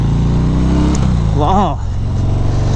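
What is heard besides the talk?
2019 Harley-Davidson FXDR 114 motorcycle exhaust revving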